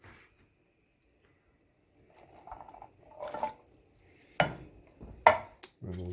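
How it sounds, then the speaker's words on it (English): Drained canned Great Northern beans stirred in a pot, giving soft, wet squishing and scraping sounds in a few short bursts after a quiet start, close and fairly faint. "Give that a little stir around."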